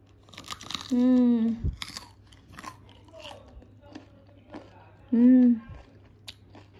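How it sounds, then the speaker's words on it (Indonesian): Crunchy fried tofu (tahu kriuk) is bitten and chewed in a string of crisp, close crackles, with loud voiced sounds from the eater breaking in twice. "Yuk kita tes kriuk."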